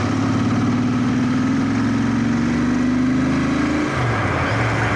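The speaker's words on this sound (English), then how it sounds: "I'll just accelerate and you guys will hear it." A bike engine fitted with a BoosterPlug runs loud and close, its drone climbing steadily in pitch as it accelerates before dropping back near the end.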